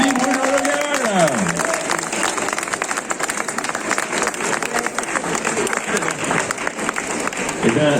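Audience at a farm expo applauds the winner of a competition, dense sustained clapping over a crowd murmur for the full stretch, with a voice talking briefly at the start.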